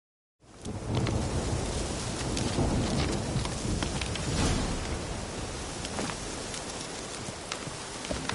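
Rain and thunder in the video game Witcher 3: Hearts of Stone, a loud, continuous wash of falling rain with low rumbling underneath that fades in at the start and holds steady throughout.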